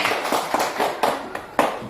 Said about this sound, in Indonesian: Tepuk tangan untuk Keke